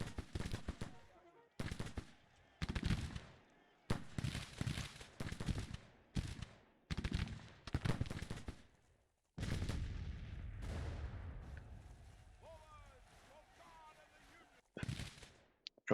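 Musket and rifle gunfire from a Civil War strategy game crackles in repeated bursts of volleys, separated by short quiet gaps, with a longer rumbling stretch midway, fairly loud and without speech.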